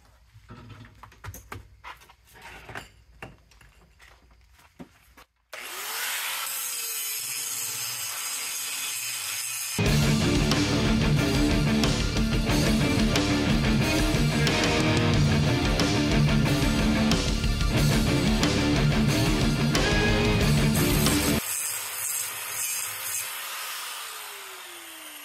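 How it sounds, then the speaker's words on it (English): Angle grinder shaping steel suspension mounts for a one-ton axle swap on a Jeep Wrangler YJ, a loud sustained grinding roar that runs for long stretches after some quieter shop clatter, with a changing pitch as the disc bites the metal. "we're going back to the grinder"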